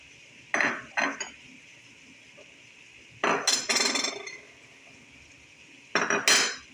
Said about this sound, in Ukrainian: та ретельно перемішуємо на протязі 4 хвилин